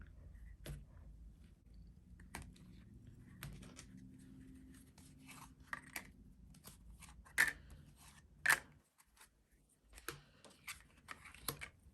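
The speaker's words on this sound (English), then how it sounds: "I have to like shuffle as if these are playing cards." Tarot cards are shuffled by hand as if they were playing cards, giving quiet papery riffles and sharp flicking snaps, with two crisp louder clicks near the end against a soft, near-silent background.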